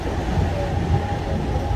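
Chiplun–Panvel passenger train rolling along, a steady close rumble of wheels and carriage noise filling the whole stretch without talk.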